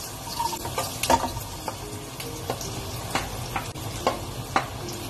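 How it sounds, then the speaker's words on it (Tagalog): Garlic sizzles in melted butter in a pan for a macaroni carbonara, a steady close crackling fry with small pops and occasional light clinks of a utensil, no voices. "Pag natuno na yung butter, ilagay na natin yung garlic."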